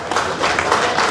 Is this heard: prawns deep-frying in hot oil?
no